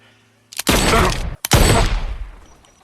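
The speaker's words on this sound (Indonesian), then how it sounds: "Bob dan Stick menuju ke Papi Greco menembaknya sampai mati." Two heavy gunshot blasts from a film, each a loud broadband boom with a long decaying tail, the second following about a second after the first, with no talk over them.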